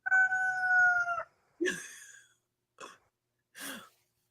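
A rooster crows once in a long, clear, loud call, followed by three shorter harsh bursts with gaps between them, with no talking.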